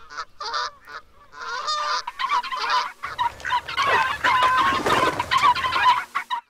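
Geese honk repeatedly at close range near goslings, a run of loud nasal calls with short gaps giving way to denser overlapping honks and clucking.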